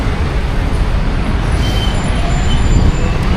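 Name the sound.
city road traffic with buses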